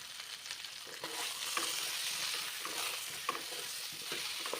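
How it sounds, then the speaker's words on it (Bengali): A spoon stirs turmeric, salt and chilli into singhi fish curry with plantain and potato in a hot pan, a continuous close scraping and sizzling with a few louder scrapes, no talk. "এবার নেড়ে চেড়ে ভালোভাবে মিশিয়ে নেব"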